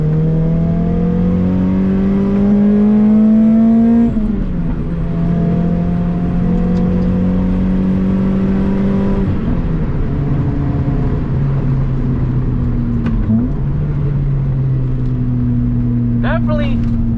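A Toyota MR2 Spyder drives on a back road, heard from inside as a loud, steady engine hum whose pitch climbs through gears and drops at shifts, with speech over it.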